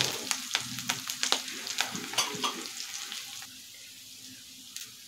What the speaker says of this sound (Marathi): अशी तेलामध्ये कोथिंबीर परतून घेतली